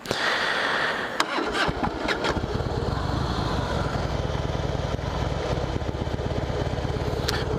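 A 2005 Harley-Davidson Fatboy motorcycle with a dirty carburetor starts roughly, a few clattery cranking bursts settling into a rapid, uneven idle chug close by.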